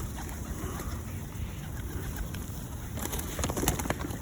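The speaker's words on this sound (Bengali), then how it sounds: "অনেক অনেক কবুতর," A flock of white pigeons coos softly while being hand-fed outdoors, the low murmuring calls blending into a steady hiss of ambient noise, with brief rustles and flutters toward the end.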